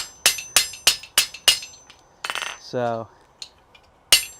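A heavy hammer strikes hot metal in a smithy, five sharp ringing blows in a steady rhythm, followed by scraping and a brief tonal clatter, then one final loud strike; someone says a word briefly.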